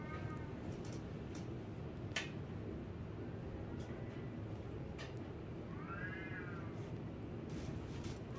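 A cat meows faintly twice over a steady low background hum, the cries distant and soft, with a few scattered clicks.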